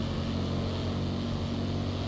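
Cessna 150 engine overspeeding in the FlightGear flight simulator, a loud steady droning propeller roar with a constant buzzing hum that holds at high RPM throughout, no voices.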